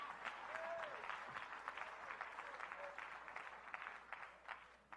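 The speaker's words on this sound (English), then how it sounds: "Oh, come on, clap your hand." Faint applause from an audience at a leadership lecture, a steady patter of clapping lasting several seconds.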